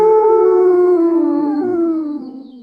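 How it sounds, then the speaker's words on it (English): A wolf gives a single long, loud howl close by, a steady harmonic tone that slowly drops in pitch and fades out over nearly three seconds, heard alone without other sounds. "Wolf."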